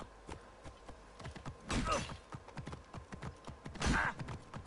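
Horse hooves in the video game Assassin's Creed Origins, a steady run of clip-clop steps at a trotting rhythm, broken by two louder bursts of impact or movement noise.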